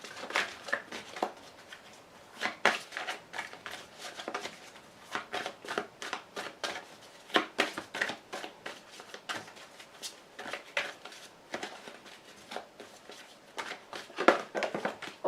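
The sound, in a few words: playing cards being shuffled and drawn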